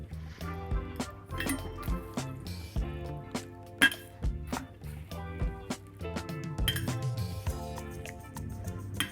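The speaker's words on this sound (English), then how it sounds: "now I'm just going to spoon it in to my Clodagh jar" Granola spooned into a glass Clodagh jar, with repeated clinking of the spoon against the glass in an uneven rhythm and a soft rustle of crunchy clusters falling in, close and fairly quiet.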